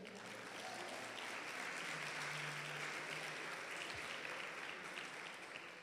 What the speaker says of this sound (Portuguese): Dê uma salva de palmas ao Senhor.